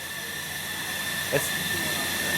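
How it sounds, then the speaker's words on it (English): Water sprays in a steady hiss to rinse chemical off cheese forms, with a constant machine hum and tones behind it, a short burst in the middle, and a voice talking over the top. "So right now he's just rinsing the chemical off the forms"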